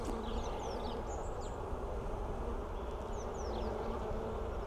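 Honey bees hum in a steady, continuous drone around an open hive during an inspection, close and even, with a few faint bird chirps high above.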